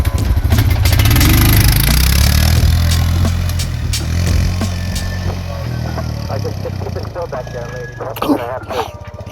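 An ATV or dirt bike engine revs loudly up close as the throttle is rolled on hard, with a deep rumbling roar that gradually eases toward an idle.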